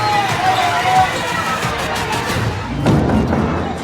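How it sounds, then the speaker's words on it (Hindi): A protesting crowd of children, elders and women gathers outside a police station in Balkua village, Chhatarpur, against the Ken Betwa project, making a loud, close commotion of voices, thuds and movement, with talk over it. "जमकर हंगामा हो रहा है।"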